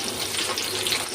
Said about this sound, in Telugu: ముందుగా కట్ చేసుకున్న ములక్కాడలు ఉన్నాయి కదండి, వాటిని ఈ ఆయిల్లో ఫ్రై చేసుకోవాలి